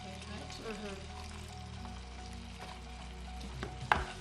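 Kenyan irio ingredients sizzle as they dry fry in a pan, a soft steady crackle under a low background hum, with a brief scrape or clink near the end.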